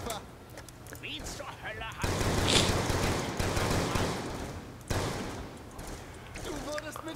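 Rapid gunfire from Black Ops 2 Zombies on the Buried map, bursts of automatic shots running through most of the stretch with short pauses, mixed with game noise, while players talk in German over it.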